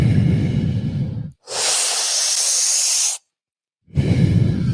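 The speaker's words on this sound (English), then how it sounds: "And balloon breathing looks like this." Deep balloon-style breathing through the mouth: a low, rough inhale, a long steady airy exhale, a brief silence, then another rough breath beginning, close and alone.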